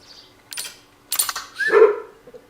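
Hunting dog in theHunter: Call of the Wild barking on a grouse at Salzwiesen Park, a few sharp barks followed by a yelp or whine, fairly close with quiet gaps between.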